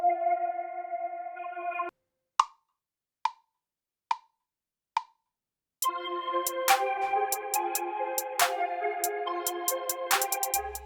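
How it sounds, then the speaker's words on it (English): GarageBand on iPhone playing the Autumn Haze synth pad from the Flex and Flow pack: a soft held chord, then four isolated plucky notes with gaps, then a fuller sustained pad with bright tinkling accents, fairly quiet with no talking. "Let's go for some pad kind of sounds. I kind of like this flex and flow pack, so let's try the autumn haze."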